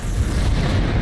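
A fuel rod cannon blast in a Halo game hits as a dense, loud low boom that rumbles on briefly, close and alone without voices.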